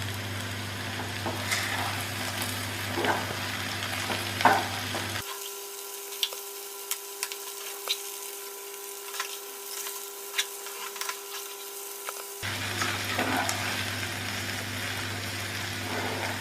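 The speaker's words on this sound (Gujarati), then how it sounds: "તો હવે આપણે છેલ્લે એના પર લીલા ધાણા નાખી દઈશું અને શાકમાં સારી રીતે મિક્સ કરી લઈશું" An okra and potato curry frying in a pan with fresh coriander added gives a steady low sizzle with occasional stirring scrapes and clinks, cutting to near quiet in the middle before the sizzle returns.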